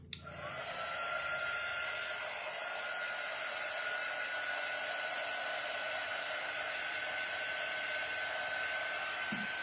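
Hair dryer drying paint on a wooden board sign, switching on with a click and then a steady, loud, close whooshing hum that holds for several seconds; no talk.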